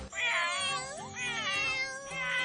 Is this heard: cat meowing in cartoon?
yes